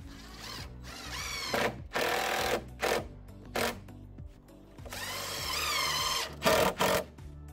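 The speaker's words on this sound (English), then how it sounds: "For the regular deck screws, especially near the edge, you need to pre-drill." A power drill pre-drills holes for deck screws near the board edge in deck construction: several short whirring bursts rise and fall in pitch with brief pauses between, loud and close.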